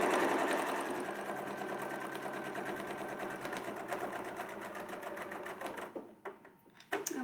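A sewing machine stitches a quilt in a fast, steady mechanical chatter that runs loud for about six seconds, then slows and stops with a few final clicks.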